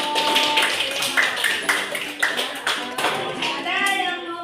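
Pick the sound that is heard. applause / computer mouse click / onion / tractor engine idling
applause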